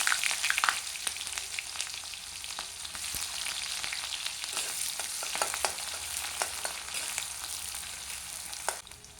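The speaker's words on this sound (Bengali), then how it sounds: "পেঁয়াজগুলো ভালো করে ভেজে নেব।" Onions fry in a pan with a steady broadband sizzle and crackle, punctuated by scattered sharp pops and a few utensil stirs, fairly close and continuous with no talking.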